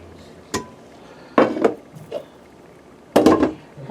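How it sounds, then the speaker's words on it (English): A sturdy spoon stirs meat in a cooking pot for jerk chicken, making three separate bursts of clanking and scraping against the metal, close and fairly loud. "I'm going to use the stronger spoon for me right now to be able to stir in everything."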